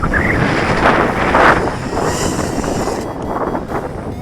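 Wind blows across the microphone outdoors during a micro hexacopter drone flight, giving a loud, steady rushing buffet that covers the whole stretch. The sound swells slightly partway through.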